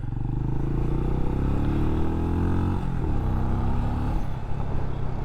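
A Benelli Imperiale 400 retro motorcycle rides along a road, its single-cylinder engine thumping close and steady, pitch climbing through the gears and then easing off midway, with wind rush behind it.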